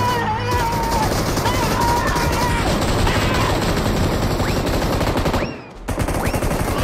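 Shotgun fire in the PUBG Mobile battle royale game, loud blasts bursting repeatedly through a dense, continuous stretch of gunfire and game noise, with a brief dip near the end before the shooting resumes.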